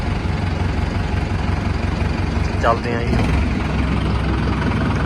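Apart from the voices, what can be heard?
tractor engine running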